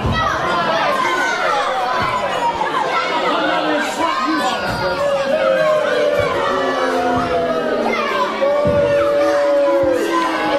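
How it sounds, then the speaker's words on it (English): Crowd at a live wrestling event in Stotfold reacts with constant loud shouting, jeering and cheering from many voices, children prominent among them, sustained throughout with no pause. "Crowd here in Stotfold, not a fan of the King."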